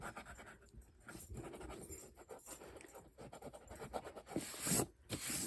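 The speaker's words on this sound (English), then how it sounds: "I will only erase the parts of the circle." A pencil eraser rubs across paper to clear circle lines from a hand-drawn mandala, soft close scratchy strokes in a steady back-and-forth rhythm, quiet overall with one louder rub near the end.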